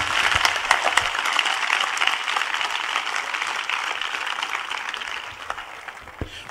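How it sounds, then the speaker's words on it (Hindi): A church congregation claps loudly, dense sustained applause with sharp individual hand claps, steady at first and tapering off toward the end. "आइए हम सब यीशु के लिए ताली बजाएं जोर से"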